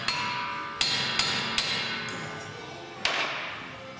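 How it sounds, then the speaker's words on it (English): Hammer blows on a rusty wheel hub being knocked off a Dodge Dakota; about five sharp metallic strikes spaced irregularly, ringing briefly, close and fairly loud, with no talking. "give it some love with a hammer here"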